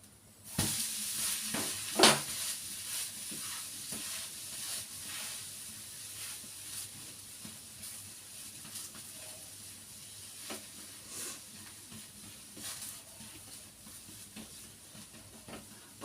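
A flipped dosa sizzles steadily on a hot pan, a soft, continuous frying hiss. A sharp clatter comes near the start, and a few light scrapes and taps follow.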